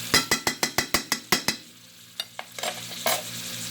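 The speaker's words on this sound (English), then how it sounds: "And then this is starting to boil" Pasta sauce for a quick cheesy spaghetti-style bowtie pasta bubbles in a pan, opening with a rapid series of sharp, evenly spaced knocks, then softer scattered pops and bursts as it starts to boil; close and alone.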